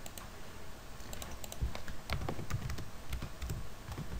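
Keys on a computer keyboard are tapped in quick, irregular bursts, with clicks close and fairly quiet against a soft background hiss.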